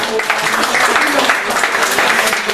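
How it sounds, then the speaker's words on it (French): Congregation at a prophet's church service clapping together in a steady, dense wash of applause, with voices mixed in underneath. "Applaudissez."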